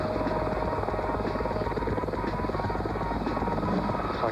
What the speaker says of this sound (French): un chien jaune guide visuellement l'hélicoptère de pilote